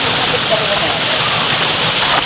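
Several waterfalls spilling down the sides of Calibato Lake make a steady, loud, broadband rush of falling water, close and unbroken throughout.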